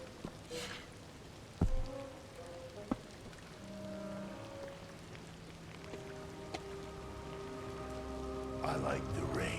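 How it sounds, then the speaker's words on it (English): Soft rain patters steadily in the Disney Dreamlight Valley video game, faint and constant, with light game chimes and tones layered over it. "I like the rain."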